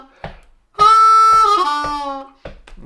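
A G harmonica plays lick 2 of a song: a few short clicks, then a long bent draw note held for over a second, a falling slide, and two brief notes at the end, loud and close with no voices.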